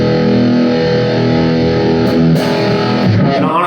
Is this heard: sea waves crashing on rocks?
no